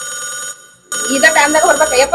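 A phone ringtone sounds loud and close, stops briefly, then comes back with a melodic ring.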